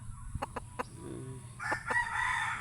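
A few short chicken clucks, then a rooster crows in a drawn-out call, moderately faint and close by.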